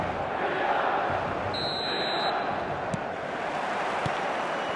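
Steady stadium crowd roar in the eFootball 2026 mobile football game, a continuous dense wash of distant voices with faint thumps and a short electronic tone partway through.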